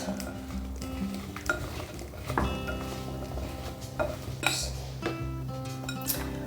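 Spoon stirring a dry seasoning mix with smoked paprika in a bowl, repeated scraping and clinking of metal against the bowl at an uneven rhythm, close and fairly quiet.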